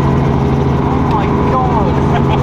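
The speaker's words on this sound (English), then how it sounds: "I've never been in a helicopter." A loud, steady helicopter engine and rotor drone fills the whole clip, close and constant, with indistinct voices mixed in.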